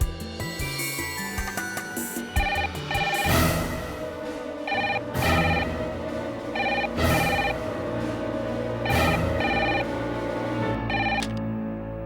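A telephone rings in repeated bursts of bright electronic trilling, several rings spaced a couple of seconds apart, fairly loud and close, with faint background sounds at the start and no talking.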